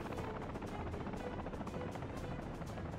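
A helicopter in the video game Workers & Resources: Soviet Republic thrums quietly with a steady, rapid rotor chop under a faint, constant engine hum.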